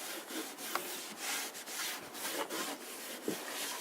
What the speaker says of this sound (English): you then just gently rub it over